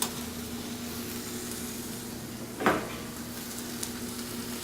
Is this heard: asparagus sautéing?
yes